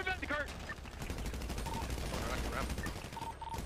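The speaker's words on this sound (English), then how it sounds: "He might have just shot Randy." Gunfire rings out in a GTA roleplay video game during a police compound raid, a dense burst of shots mixed with game sounds and overlapping voices talking.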